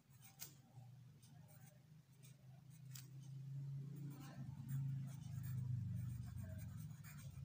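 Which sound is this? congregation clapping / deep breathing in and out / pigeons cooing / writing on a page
writing on a page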